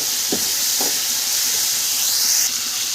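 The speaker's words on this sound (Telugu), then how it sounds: "అలాగే వేపుతూ ఉండాలి." Drumstick and potato curry with tomato fries in a pan, giving a steady, close sizzling hiss. A couple of soft scraping stirs can be heard early, and the sizzle swells near the end.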